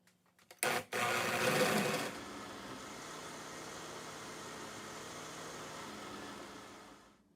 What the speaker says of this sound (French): Je remplis mon blender aux 3/4 et je vais mixer pendant 2 minutes.